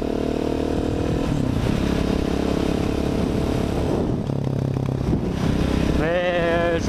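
KTM 690 SMC-R single-cylinder supermoto pulling hard through the gears, a loud, close engine note rising and shifting with wind buffeting the microphone throughout and a sharp rising whine near the end.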